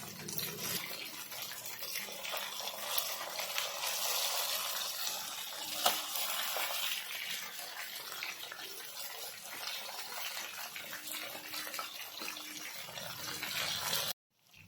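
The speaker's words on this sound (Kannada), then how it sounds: "ಸ್ವಲ್ಪ ಮೀಡಿಯಂ ಫ್ಲೇಮ್ ಒಳಗಿಟ್ಟು ಅದನ್ನು ಮೀನಾನ ನೀವು ಕರೀರಿ." Fish fries in oil over a medium flame, giving a constant close, loud sizzle and hiss that runs almost without a break before cutting off abruptly at the end.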